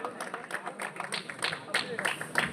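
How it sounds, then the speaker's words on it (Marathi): Crowd clapping at a kabaddi match, a quick scattered burst of many hands applauding under a voice. "टाळ्या आमच्या दादासाठी"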